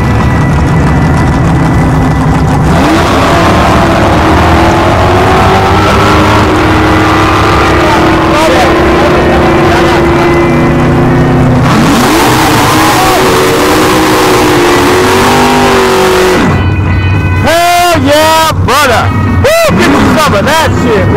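A 2001 Ford Taurus with a six-cylinder engine, built as a drag car, roars loudly down the track, its engine pitch climbing steadily through long gear pulls before sharp rapid revving bursts near the end; people's voices mix in.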